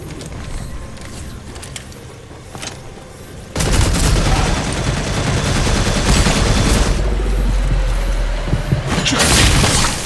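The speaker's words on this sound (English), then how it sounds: "Two bursts from assault rifle fire just immediately fucked his day up." Dense assault rifle fire in the video game Redfall erupts in loud sustained bursts with booming impacts, filling the sound after a quieter opening stretch.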